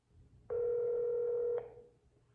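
A telephone tone sounds during a round of cold calls: one steady, loud electronic tone lasting about a second with a sharp start and stop, then fading, with faint line noise before and after.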